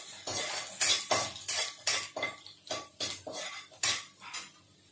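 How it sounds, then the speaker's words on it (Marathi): A spatula scrapes and clinks rhythmically against a pan as finely chopped garlic is sautéed, with about a dozen sharp, close strokes over a faint sizzle. "बारीक चिरलेला लसूण आहे। थोडा गुलाबी होईपर्यंत परतून घ्यायचं आहे।"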